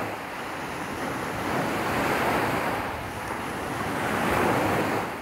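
Ocean waves at Mount Eliza Beach wash in steadily, a broad continuous surf roar swelling and easing in gentle surges, with some wind noise and no voices.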